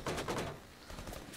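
Rapid bursts of gunfire in Rainbow Six Siege Terrorist Hunt on Realistic difficulty, with several sharp cracks packed into the first half-second, then a duller, quieter stretch of game noise.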